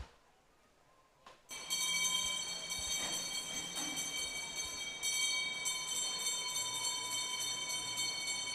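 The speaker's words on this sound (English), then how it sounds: "Jamie Farnan and Edward Marr hearing the bells in the last 100 metres for them two" Bell rung at a swimming gala to mark the last 100 metres for swimmers in a long-distance race, a steady sustained ringing with bright repeated tones over a busy pool hall, starting after a quiet second and continuing throughout.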